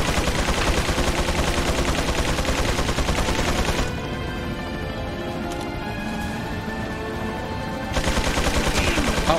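Rapid, loud bursts of gunfire from an enemy shooter in Resident Evil 4, a dense rattling volley that eases to a quieter stretch before the heavy firing resumes.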